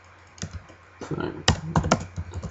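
Keys clack on a computer keyboard in quick, irregular bursts, close and fairly crisp, with a few heavier strokes standing out.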